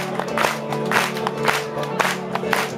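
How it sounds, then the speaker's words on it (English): Live crowd at a concert in Melkweg, 2011, clapping in a steady rhythmic beat along with the band's music, a dense wash of hands over the amplified playing. "If you start clapping, you've got to keep it up"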